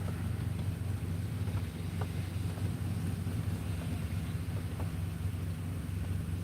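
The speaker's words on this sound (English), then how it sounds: "now I got the sound of a darn reefer truck" A steady low rumble of an idling refrigerated truck engine with a constant hum, running continuously nearby, with some wind noise.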